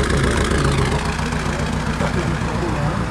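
A 1998 car with a flashing check engine light and a suspected electric fuel pump fault idles close by, a steady, unbroken engine drone throughout.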